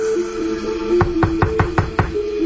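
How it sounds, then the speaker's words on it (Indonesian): Someone knocks on a toilet door: six quick, firm raps in an even rhythm, close and clear, over a faint steady hum in the background. "Aku pun coba mengetuk lagi sambil berkata,"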